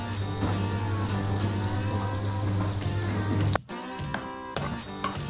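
Ginger and lemongrass sizzle steadily in a hot pan, a loud continuous frying hiss that cuts out abruptly near the end, leaving quieter clatter and sputter.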